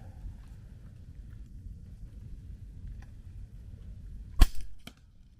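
A single sharp, loud shot from an 8.6 Blackout bolt-action rifle firing 315-grain cast bullets cracks after several seconds of low wind rumble outdoors, followed by a quick echo.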